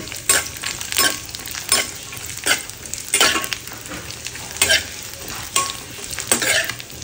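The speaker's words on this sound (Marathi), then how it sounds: "त्याच्यात आपण बोंबील टाकले फ्राय करून घेऊया" Bombil, Bombay duck fish, frying in a little oil in a pan, a steady close sizzle broken by repeated sharp bursts of spattering and spatula scrapes, fairly loud.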